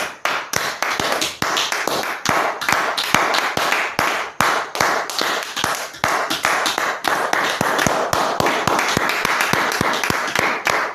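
A church congregation claps steadily in rhythm to acclaim Jesus, a dense, continuous run of sharp hand claps filling the space for the whole stretch, with no talk over it.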